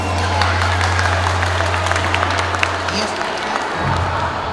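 Applause from a school talent show audience for the contestants, a dense, steady wash of clapping that fills the hall for several seconds over a low electrical hum, fading near the end.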